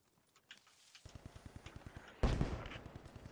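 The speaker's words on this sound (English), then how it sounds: "Well, that's the mortar." Mortar fire in the video game Post Scriptum, a rapid series of sharp distant thuds that lands as a single loud near blast halfway through, then continuing with more rhythmic thumps.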